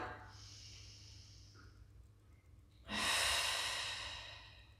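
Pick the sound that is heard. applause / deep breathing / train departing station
deep breathing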